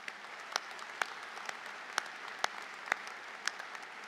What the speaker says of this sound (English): Please give these students a round of applause.